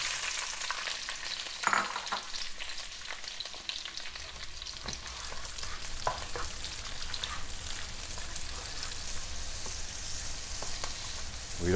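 Red pepper stir-frying in hot sesame oil in a wok, a steady dense sizzle throughout with scattered crackles and stirring clatter close by, no voices.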